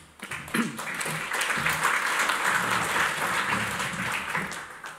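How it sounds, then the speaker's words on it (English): An audience at a talk on climate change and health care breaks into sustained applause, a dense, fairly loud wash of many hands that swells quickly and holds steady. "I'm assuming the clap was for him."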